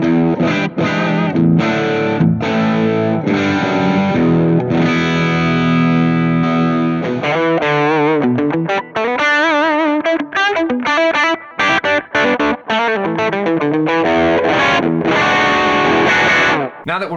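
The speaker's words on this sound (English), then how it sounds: "let's hear the Blues Boy amp with this vintage delay model on there" An electric guitar plays through a Positive Grid Spark 40 amp on its Blues Boy model with vintage delay and a Klon-style overdrive, loud and distorted, with sustained chords giving way to quicker picked runs that trail off in echoing repeats.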